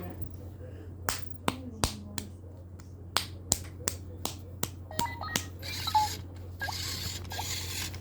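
Several sharp handclaps from one person, spaced irregularly and close by, set off a Silverlit toy robot, followed by faint whirring and electronic beeps from the toy under a steady low room hum.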